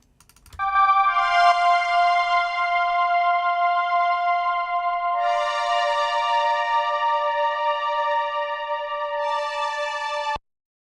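A wet brass synth patch with a lush reverb tail, part of a cinematic sync production in a 70s style. It plays alone as sustained chords for about ten seconds, and a brighter swell comes in midway.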